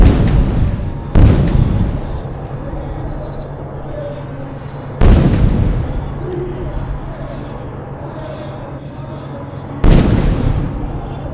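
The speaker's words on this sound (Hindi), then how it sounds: "आर्टिलरी फायर शुरू हो चुका है दुश्मन के इलाके में।" Bofors artillery guns fire during a Republic Day parade demonstration in Delhi, three loud booms spaced several seconds apart, each rolling off into a long rumbling decay over steady background noise.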